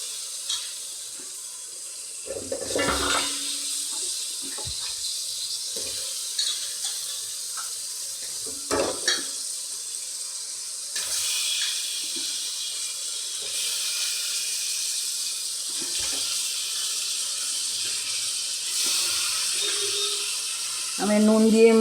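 Chicken pieces, marinated with salt and vinegar, go into a pan of fried masala, giving a steady hissing sizzle across the whole stretch with occasional clinks and scrapes, and a voice speaking now and then.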